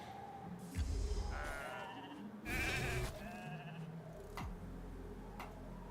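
Cartoonish sheep bleats from the RAID arena video game, several loud, wavering bleats in quick succession over faint game clicks, with no talking.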